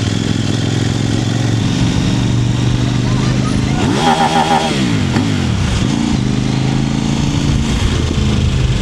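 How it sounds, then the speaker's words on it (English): A Kove 800X Rally adventure motorcycle engine buzzes loudly at close range, with a brief stuttering burst midway as it bounces off the rev limiter, while a rider talks over it. "Kids love a rev limiter, don't they?"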